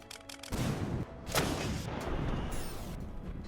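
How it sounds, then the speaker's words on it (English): A massive railgun in the game Starbound fires with a loud crash and a booming blast, then a long rumbling roar trails off, with no voices over it. "a massive railgun like this should do a bit more damage"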